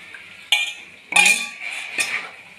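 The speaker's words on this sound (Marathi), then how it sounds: "लवकर हलवायचं, हे पटकन हलवत राहायचं, नाहीतर दही फुटतं मध्ये।" A spoon clinks and scrapes against a bowl while homemade curd is stirred quickly into urad dal medu vada batter, three sharp metallic strikes spaced about half a second apart with brief rubbing in between, close and clear.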